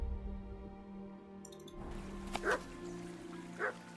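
Dog in the video game Kingdom Come: Deliverance II giving two short, sharp barks spaced about a second apart over a low game soundscape with music, fairly faint overall.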